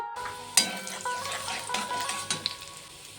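Chopped garlic and ginger dropped into hot oil in a wok, a sharp sizzle bursting up at the start and settling into steady frying with small pops and clinks.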